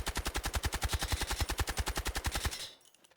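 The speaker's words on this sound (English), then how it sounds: "you just want to go to the firing range and quite simply just shoot at the wall" Rapid automatic fire from a PTR-32 rifle on a firing range in the video game Delta Force: a fast, even stream of about two dozen loud shots over two and a half seconds, then an abrupt stop with a short fading tail.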